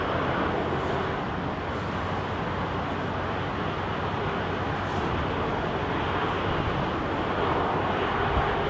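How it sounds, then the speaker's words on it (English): Freight aircraft engines run at London Heathrow on a windy day, a steady broadband roar heard from a distance that holds unbroken and even throughout. "Let's see if he's running both engines."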